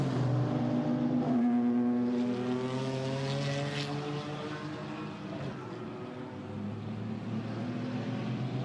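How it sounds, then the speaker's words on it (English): A BMW GT4 race car accelerates during qualifying at Zandvoort, its engine note rising through gears with sustained droning tones, other engine noise blending in, moderately loud and continuous without talk. "So that BMW now accelerates, now gets on with the programme"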